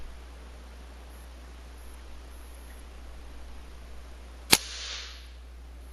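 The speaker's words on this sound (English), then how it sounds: "Alright, Daystate Air Ranger, 22 cal, shooting at 1050." A single sharp crack from a Daystate Air Ranger .22 PCP air rifle firing at 1050, followed by a short hissing tail, standing alone against a quiet outdoor background.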